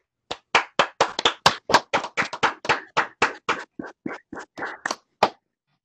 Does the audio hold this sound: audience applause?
yes